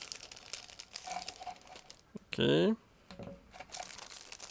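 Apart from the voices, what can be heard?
plastic bag of model kit parts being opened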